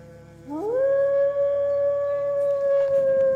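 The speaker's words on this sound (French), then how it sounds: "Les cris du loup, ils gâchent tout" A single long wolf howl from a film chase scene rises steeply and holds a steady, clear pitch for nearly three seconds, loud and close over a faint background soundtrack.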